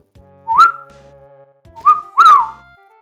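A person whistles in imitation of the moogle creatures from Final Fantasy VI, giving three short, clear rising chirps, close and alone with quiet gaps between them.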